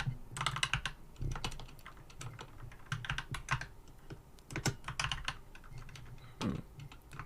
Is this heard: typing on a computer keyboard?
yes